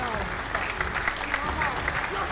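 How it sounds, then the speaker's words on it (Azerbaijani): A stage-show audience applauds steadily, with a continuous patter of many hands clapping at moderate loudness throughout the short stretch. "Alqışlar gəlsin."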